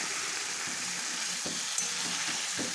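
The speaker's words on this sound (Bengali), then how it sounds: "ভালো মতন সবজিটা এখন কষিয়ে নিচ্ছি।" Pointed gourd, eggplant and potato frying in spiced oil, a steady close sizzle broken by several soft scraping stirs of the spatula.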